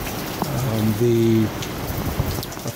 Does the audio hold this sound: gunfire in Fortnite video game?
no